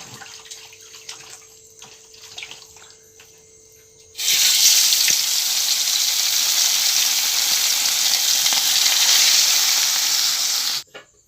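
Sardines coated in ground spice paste frying in a pan give a loud, steady sizzle that starts abruptly and holds for several seconds, preceded by quieter kitchen clatter, then cuts off sharply.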